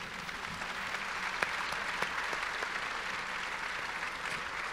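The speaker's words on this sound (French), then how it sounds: "Vous pouvez l'applaudir." A seated audience at a talk on rethinking school applauds a speaker, a soft, distant blanket of many hands clapping steadily, with a few sharper individual claps standing out.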